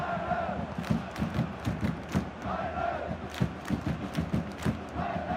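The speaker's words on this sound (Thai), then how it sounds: "เสียงเฮเสียงเชียร์ครับมาเต็มเหมือนกัน" A large crowd in the football video game PES 2021 roars and chants in rhythmic swells during a Thailand vs China match, the cheering rising and falling repeatedly as if from stadium stands.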